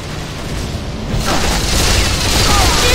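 Heavy booming explosions and gunfire in a capture-the-flag match of the video game Unreal Tournament 3, loud and continuous, building into a dense roar over three seconds.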